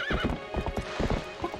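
Horse in The Legend of Zelda: Twilight Princess: a steady run of close clip-clop hoofbeats with a whinny near the start, loud and alone with no talk.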